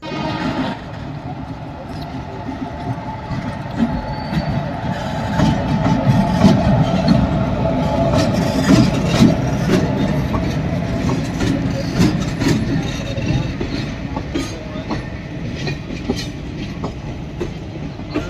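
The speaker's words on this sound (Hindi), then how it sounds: "ये फाटक लगा है, अब हम ट्रेन का इंतज़ार करते हैं।" A train rolling past a railway level crossing on the road to Haldwani, its loud steady rumble and clattering wheels continuing throughout, close by, with traffic noise and some talk underneath.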